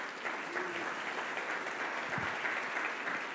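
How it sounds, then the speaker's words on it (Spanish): A church congregation claps together in praise, giving a steady, moderately loud round of applause that fills the space evenly for a few seconds. "den un aplauso a Dios por sus vidas."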